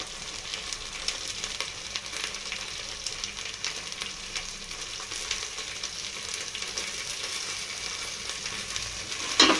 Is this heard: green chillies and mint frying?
yes